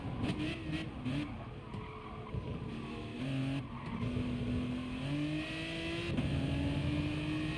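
Race car in Gran Turismo Sport approaching a final chicane: a steady engine note climbs through the gears, with brief drops at shifts and a near, continuous drone throughout.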